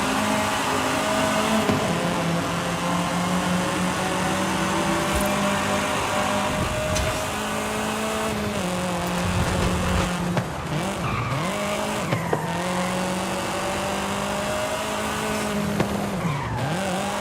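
Racing car engine in Forza Horizon, droning steadily with shifting pitch, tyre squeals and skids, loud and continuous with no talk.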